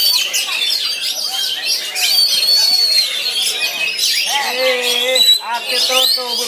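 An oriental magpie-robin (kacer) sings at an outdoor bird contest field, pouring out loud, continuous, rapid whistles, chirps and trills, with other birds calling in the background.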